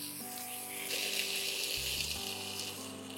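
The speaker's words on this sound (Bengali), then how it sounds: "এবার আমরা একটু গরম জল দেবো।" Hot water poured into a simmering Malabar chicken curry makes a soft rushing hiss that swells and then settles into a gentle bubbling sizzle, fairly faint and with no voices.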